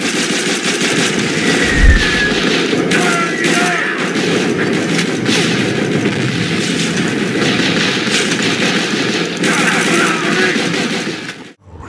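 Dense, continuous gunfire and explosions in a Call of Duty game crackle throughout, with rapid automatic bursts layered over a loud battle din that cuts off abruptly at the end.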